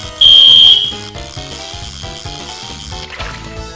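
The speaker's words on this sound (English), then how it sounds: "there's testing alarms in my apartment" A fire alarm being tested in an apartment sounds a loud, shrill electronic beep for about half a second. Busy video game music plays throughout and continues after the beep stops.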